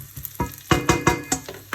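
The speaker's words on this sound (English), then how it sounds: "the shallots and the butter are cooking" Shallots cooking in butter in a pan, with a series of close, sharp sizzling bursts in an uneven rhythm and a steady frying hiss beneath.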